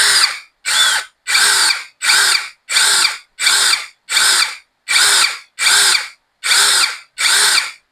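GTOOLS GT21+ cordless drill spun up in eleven short, loud bursts of about half a second each, with brief silent gaps between them, close by and with no voices.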